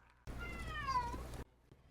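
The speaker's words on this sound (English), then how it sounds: "What are you meowing for," A cat meows once, a clear drawn-out call lasting about a second, close and loud against a quiet room with game sounds faintly in the background.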